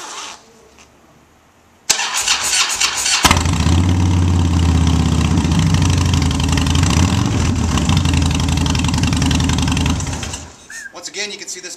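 A customized 2009 Harley-Davidson Dyna Glide motorcycle cranks and fires into a loud, deep, steady idle close by, rumbling for about eight seconds before shutting off, with faint talk before and after.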